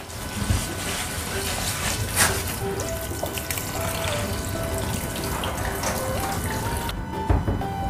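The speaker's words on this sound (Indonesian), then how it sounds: "Dan sekarang kita cuci ya beras ketannya." Glutinous rice being rinsed under running water in a woven bamboo basket, a steady rushing stream with occasional splashes and clatter throughout, with faint talk in the background.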